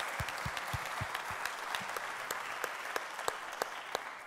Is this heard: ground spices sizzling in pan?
no